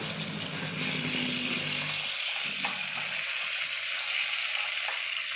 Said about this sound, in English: sear it on all sides